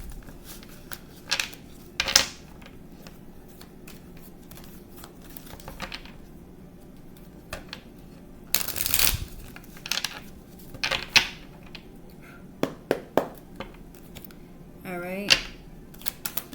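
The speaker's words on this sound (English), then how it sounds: "Sometimes I just feel called to shuffle." Tarot cards shuffled by hand in a quiet room, heard as scattered soft riffles, taps and sharp flutters coming in irregular bursts between pauses, close and fairly faint.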